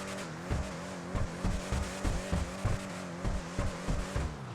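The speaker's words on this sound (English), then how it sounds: "let's jump in and listen to how the Draugur sounds" Draugur in GTA 5 Online, an American-sounding vehicle, drones with a steady low engine note, and a regular train of deep thumping pulses gives it a loping, rhythmic rumble close up with no talk.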